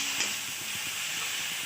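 Onion with ginger, garlic and chilli paste plus chilli, cumin and turmeric powders sizzling in a pan while being stir-fried for a jackfruit and prawn curry; a steady, close, moderately loud hiss with faint stirring ticks, no voices.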